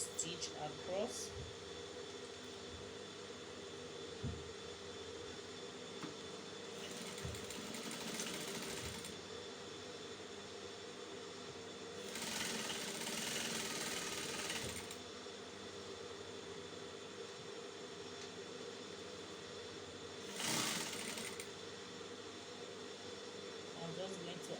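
Sewing machine running a straight stitch across the shoulder line of an oversized kimono jacket, heard in three separate bursts of steady mechanical whirring, moderately near, with quiet handling and occasional speech between runs.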